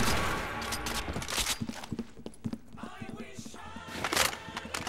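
Rapid bursts of video game gunfire crackle through a busy mix of other game effects, the sharp reports coming in uneven clusters, with players talking over them.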